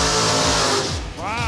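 A Studebaker Commander drag car launches down the strip with a loud engine roar that fades as it pulls away, while an announcer talks over it and another vehicle sweeps past near the end.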